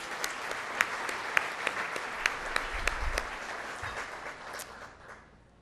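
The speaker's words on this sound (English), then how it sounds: "Big applause." Steady applause from a crowd at a charity dinner, dense clapping with a few sharper claps standing out, fading away at the end.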